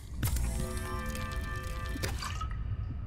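Bubbly, dripping liquid sound from crafting water out of bladder fish in Subnautica Below Zero, a steady watery burble lasting a couple of seconds with a short squelch near the end.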